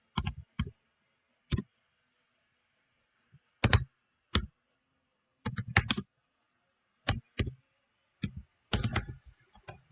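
Bursts of clicky typing on a computer keyboard, close and fairly quiet, in short irregular clusters of keystrokes separated by silent pauses.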